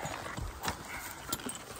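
Horse hooves clip-clop at a farm while a horse is being saddled, giving a few close, irregular thuds and knocks over steady background noise.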